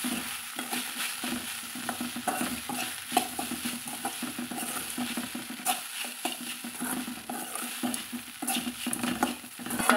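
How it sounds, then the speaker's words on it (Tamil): Cut idli pieces are stirred into a curry leaf masala in a hot pan. Steady frying sizzle runs throughout, with repeated scraping and tapping of a spatula against the pan at close range. "இப்போ இட்லி போட்டு நம்ம கலந்துக்கலாங்க"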